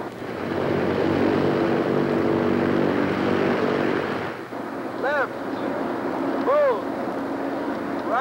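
A propeller airplane engine runs up loud and steady during a magneto check before takeoff, then drops in pitch partway through as a brief whistling tone warbles over the idling drone.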